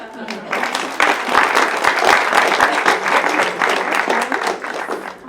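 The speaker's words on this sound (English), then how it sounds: "Please give her a huge round of applause" An audience gives a speaker a big round of applause at a talk event, loud sustained clapping with cheering and voices mixed in, continuing for several seconds.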